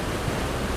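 A flooded river surges against the Daksheshwar Mahadev ghat in Uttarakhand after heavy rain, strong waves making a dense, steady roar that fills the moment with no voices.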